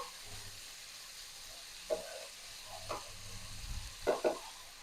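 Ivy gourd fry is stirred in a pan, a quiet sizzle broken by a few sharp scrapes and clinks of a spoon against the pan, close by and with no talk.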